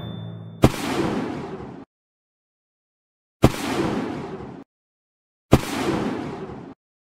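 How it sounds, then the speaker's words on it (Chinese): Magician zombie transformation effect from the video game Plants vs. Zombies: three separate identical bursts, each a sharp bang followed by a roughly one-second fading whoosh, with silence between them. "魔术师变身的音效我听了下，和毒蘑菇爆炸的音效一样"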